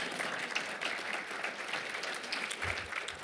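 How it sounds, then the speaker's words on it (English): Indoor audience applause at a public forum lecture, a steady wash of clapping hands at moderate level throughout, alone with no talk over it. "You can clap"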